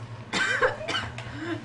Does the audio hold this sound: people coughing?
yes